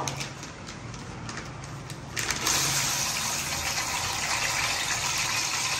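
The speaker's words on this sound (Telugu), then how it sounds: "బాగా హీట్ అయిన తర్వాత ఆయిల్ ఇలాగా ఇవి ఫ్రెంచ్ ఫ్రైస్ అనేటివి మనము వేసేసుకోవాలండి" Frozen french fries drop into hot oil and hiss up into a loud, steady, close sizzle that jumps sharply once they go in and keeps frying alone.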